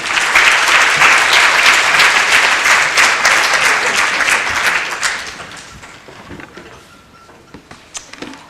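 A conference audience at a diabetes summit applauds to welcome a speaker, dense steady clapping that stays loud for about five seconds and then thins out to scattered claps.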